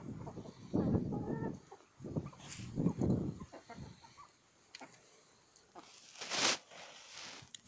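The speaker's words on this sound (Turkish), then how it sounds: "İşte tavuklarım, horozlarım." Village chickens and roosters clucking and calling close by in a coop, in uneven bursts, with a rooster-like cry and a sharp, high squawk toward the end.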